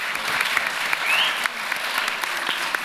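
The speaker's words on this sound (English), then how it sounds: "Let's give them a round of applause." A school audience claps loudly and steadily for a panel of speakers, dense applause that fills the room without a break.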